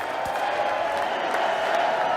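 Crowd applause at a State of the Union address, a continuous roar of clapping with a murmuring crowd that sits at a distance beneath the talk and a steady hum.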